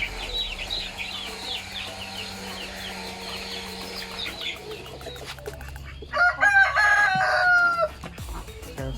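Chickens, including white egg-laying hens, cluck and a rooster crows nearby on a farm, with a louder burst of squawking calls toward the end over a steady background hum.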